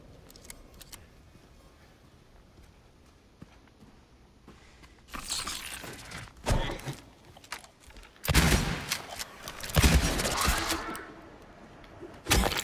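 Shotgun blasts from Silent Hill 2 Remake boom out in several loud bursts: one after a quiet stretch, then a run of rapid shots and a final blast, with impact noise between them.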